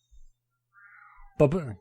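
A cat meows once, close and fairly loud, after a faint, quieter whine.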